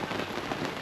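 Steady rain falls on a morning at Port Broughton, a dense, even hiss of drops heard close and alone without any talk.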